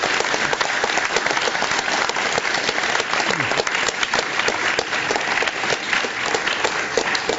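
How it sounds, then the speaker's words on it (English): Audience applause for Steve Jobs at a Cupertino city council meeting, a steady, dense wash of many hands clapping in a hall, loud and sustained throughout without pause. "Let's give a big round of applause for Mr."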